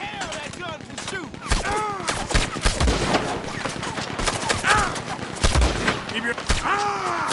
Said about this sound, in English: He's going for the Gatling. Look out, he's firing. Hell, that gun can shoot.